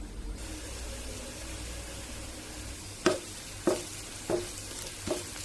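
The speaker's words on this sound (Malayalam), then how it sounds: "ഇനി ഇതിലേക്ക് 4-5 കൊച്ചുള്ളി അരിഞ്ഞതും അതിന്റെ കൂടെ തന്നെ കറിവേപ്പിലയുടെ ഇട്ട് ഞാൻ ഇളക്കി കൊടുക്കുകയാണ്" Chopped shallots and curry leaves frying in a pan for mutton soup, a steady close sizzle with four spoon stirs scraping through near the end.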